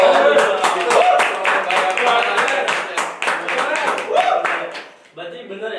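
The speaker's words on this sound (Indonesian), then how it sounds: "Tepuk tangan dulu dong." Audience at a student achievement podcast or talk claps in a brief round of distinct hand claps, fairly close and loud, fading out near the end.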